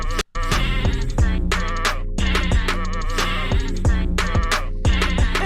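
Sheep bleats used as a show intro sound effect: a rapid series of loud, wavering bleats repeats in quick succession, close and clear, with a brief silent gap near the start and no speech.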